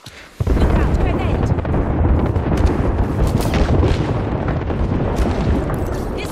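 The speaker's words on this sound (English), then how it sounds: "Look out, grenade." A grenade blast in the Apex Legends battle royale game: after a brief quiet moment, one loud, close boom bursts out, then a long rumbling, crackling tail rolls on under overlapping game sounds.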